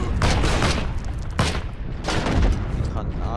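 A grenade blast from the game Heroes & Generals: loud, booming bursts of gunfire and explosion that fill the space and repeat in heavy waves over a few seconds.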